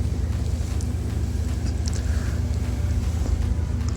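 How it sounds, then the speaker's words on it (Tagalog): Strong wind roars steadily in snowy Canada, a constant loud rush with low rumbling buffeting the microphone and no talk. "Oh, grabe kusugas hangin oy."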